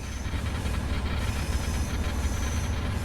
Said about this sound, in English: So I'm just going to apply a little bit of train brake.